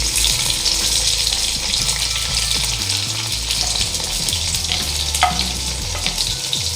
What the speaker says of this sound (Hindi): ये ऑयल गरम हो गया और ये 2 प्याज हैं बारीक कटे हुए